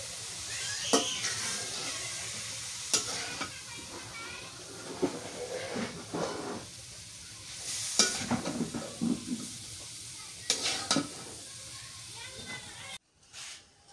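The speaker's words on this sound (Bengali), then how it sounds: "এই যে মা পটল ভাজি করছে এইভাবে" Pointed gourd fries in a pan with a steady hissing sizzle, broken by bursts of spatula stirring and scraping, while voices murmur in the background.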